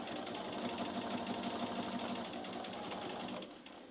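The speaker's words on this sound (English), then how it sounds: "And then I'm just going to start sewing" A sewing machine runs steadily, stitching binding onto a quilt, its motor hum and rapid needle chatter continuous and close before easing off near the end, with no talking.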